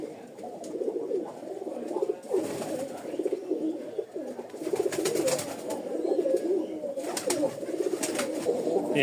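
Rajshahi Giribaz pigeons coo steadily in a loft, several birds overlapping in soft repeated rolling calls, with someone talking over them and occasional brief rustles.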